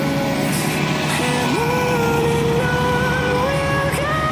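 A Tronton intercity bus on the Banda Aceh to Jakarta route at night, its loud diesel engine droning steadily close by, with a rising tone as it shifts and a horn-like whine near the end.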